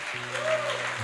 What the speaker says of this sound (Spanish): Dele ese aplauso al Señor, hermano.